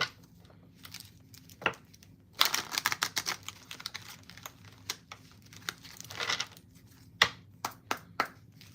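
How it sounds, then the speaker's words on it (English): A deck of reading cards is shuffled up close in a quiet room, with bursts of papery riffling and scraping mixed with sharp, isolated taps and snaps. "All right, one more shuffle."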